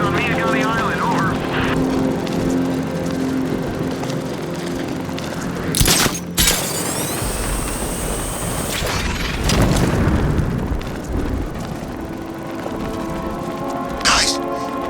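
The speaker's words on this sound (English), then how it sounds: "He's driving around in a tank shooting people." Tank cannon fire and heavy explosions boom through a Batman Arkham Knight battle on Miagani Island, several big blasts breaking out over a constant rumbling roar of vehicles and combat.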